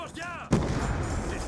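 A single sharp gunshot blast in Black Ops 2, loud and sudden after a brief voice, followed by a short lingering rumble.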